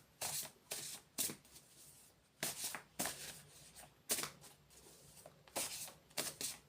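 Tarot cards being shuffled in quiet bursts of crisp riffling and flicking, about a dozen short rustling strokes in an irregular rhythm, close and faint, with no talking.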